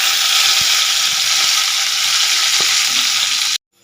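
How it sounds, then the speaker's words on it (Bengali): Chopped garlic and curry leaves fry in hot oil with a steady, loud crackling sizzle that runs unbroken for about three and a half seconds, then cuts off abruptly. "কুচানো রসুনগুলো আমি এবার দিয়ে দেবো এই তেলের মধ্যে।"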